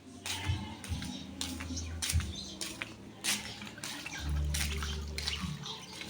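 Shower water pours and splashes over a duck, a continuous spray with uneven bursts and drips, close by, with occasional faint chirps and background rumble.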